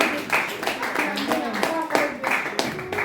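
A congregation at a prayer vigil claps in an irregular burst of hand claps, close and lively, with voices speaking and calling out over the applause.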